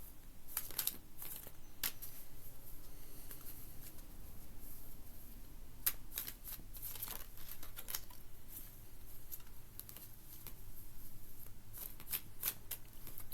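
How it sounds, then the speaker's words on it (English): Steady papery riffling and sliding of tarot cards being shuffled, close by, with occasional sharper snaps as the deck is cut and bridged. "I'm going to shuffle a little bit."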